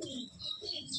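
Pigeons of Tapan Saha bloodline, Golden Jiriya, coo softly at a loft in Bamangachi, a short faint murmuring call with higher chirpy tones above, alone without talk.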